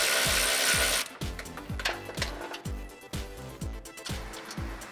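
A ratchet fitted with a 13mm socket loosens a side bolt on a Jeep Wrangler JL exhaust. Close, crisp pawl clicks repeat in a steady back-and-forth rhythm after a brief burst of louder noise at the start.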